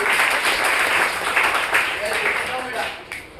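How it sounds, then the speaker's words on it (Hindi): Continuous applause from a crowd at an event, loud and even, with a voice speaking over it and the clapping tapering toward the end. "तीनों के लिए 3 बार जोरदार ताली"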